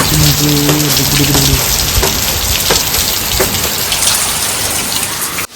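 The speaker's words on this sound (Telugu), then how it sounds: "వర్షం పడుతుంది" Heavy rain falls hard and close, a loud, constant hiss of drops on surfaces with a few brief tonal sounds early on and no pause until the end.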